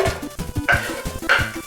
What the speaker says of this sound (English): you're hearing the sizzle as we speak